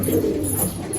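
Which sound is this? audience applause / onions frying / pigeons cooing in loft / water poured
pigeons cooing in loft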